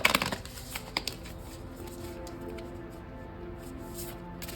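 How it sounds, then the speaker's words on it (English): Tarot cards being shuffled close up, a burst of quick riffling flutters at the start followed by a few soft slaps and a steady quiet rustle. "So I'm going to shuffle the cards again"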